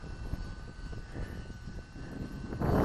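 A UMX Timber radio-controlled model airplane flies in wind at a little over half throttle, its small motor giving a steady, fairly distant drone under rushing wind noise that swells louder near the end.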